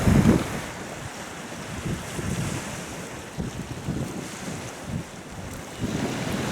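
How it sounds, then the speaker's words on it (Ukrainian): Strong wind buffets the microphone in rumbling gusts over a constant wash of water and surf by the shore at Kherson, with no voices. "Та і вітер такий віє."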